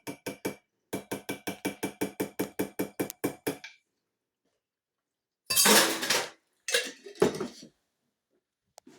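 A metal spoon knocks rapidly and rhythmically against a bowl while stirring yogurt and whey, pausing briefly. A few louder scrapes and clinks follow after a silence, close and clear.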